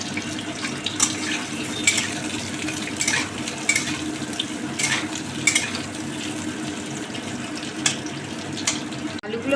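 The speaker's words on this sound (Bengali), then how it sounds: "তেল এসে গেছে, এবার কাটা আলুগুলো ছেড়ে ভেজে নেব।" Cut potatoes fry in hot oil in a wok, giving a steady dense sizzle with scattered sharper crackles and pops throughout, moderately loud and close.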